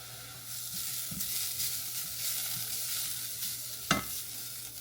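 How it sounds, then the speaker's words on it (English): Onions frying in a pan toward browning, a soft steady sizzle with occasional stirring scrapes and a sharp clatter near the end. "I'm going to cook these onions until they're translucent, but I want a bit of browning, a bit of char on them"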